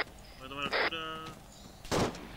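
Gunfire in the military shooter Arma 3, with a couple of sharp shots standing out over harmonic voice chatter and radio-like talk, the bursts short and separated.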